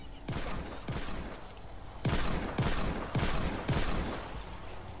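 Pistol gunfire in Fortnite Save the World from a power level 30 pistol: about eight sharp, loud shots in an uneven rhythm, some in quick pairs, each with a short echoing tail, with no talking.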